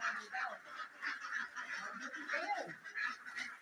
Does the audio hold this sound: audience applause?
no